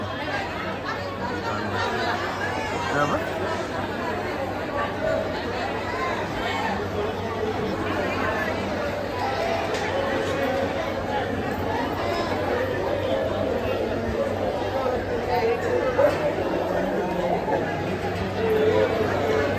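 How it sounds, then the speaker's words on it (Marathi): Crowd chatter at a temple in Jejuri, a steady, dense babble of many voices with a constant low hum underneath, close and unbroken throughout. "गर्दी बघ आहे एकदम अफलातून"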